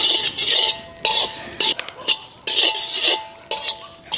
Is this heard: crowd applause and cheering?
no